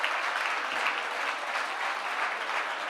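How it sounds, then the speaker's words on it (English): Steady, sustained audience applause at an awards gala fills the whole stretch, a dense wash of clapping hands at an even level. "How about a nice round of applause for all of those award winners this evening?"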